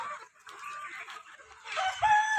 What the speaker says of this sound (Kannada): ಹನ್ನೆರಡು ನೂರು ಕೋಳಿಗಳು ನಾಟಿ ಕೋಳಿ ಜವಾರಿ ಕೋಳಿ